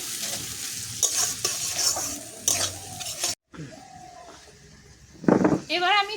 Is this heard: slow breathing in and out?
no